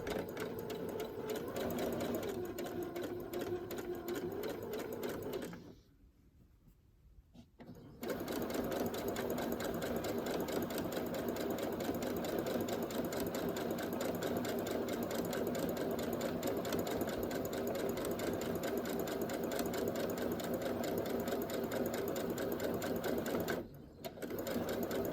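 A sewing machine stitches cover fabric for winter journals with a fast, even mechanical whir, running close and steady, pausing for about two seconds early on and once more briefly near the end.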